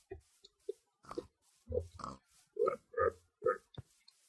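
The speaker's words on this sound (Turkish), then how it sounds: "Domuz var." Several short Minecraft pig grunts and oinks in an irregular series, moderately close, with brief quiet gaps between them.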